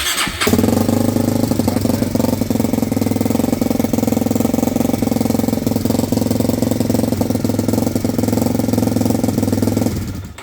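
A motorcycle engine runs steadily at close range, a loud, even mechanical drone that holds for about ten seconds before cutting off, with no talking over it.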